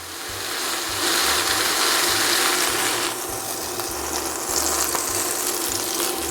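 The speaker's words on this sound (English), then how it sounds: "we're going to just fry up the last one" Steady hiss and crackle of a Beyond Meat plant-based smash burger frying in a pan, continuous throughout with a brief shift in texture partway, no voices.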